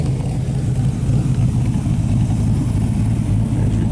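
A Ford Cobra replica car built by Classic Carriages of Miami runs close by, its engine giving a loud, steady low rumble at idle throughout.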